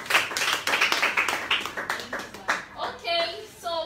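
Scattered clapping breaks out in bursts at a charity gathering, mixed with talk and cheering voices.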